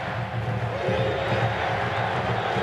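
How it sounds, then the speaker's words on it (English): Large stadium crowd at a 1988 Nebraska college football game against Oklahoma State, a dense, loud continuous roar of cheering filling the whole moment, with a commentator's voice faintly under it. "This crowd's going crazy."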